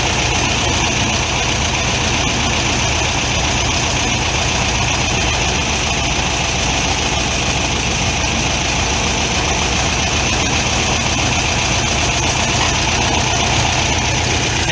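A Volkswagen Beetle's air-cooled engine with dual Solex 32 PDSI carburetors idles loudly and steadily at close range, a constant even drone with no break.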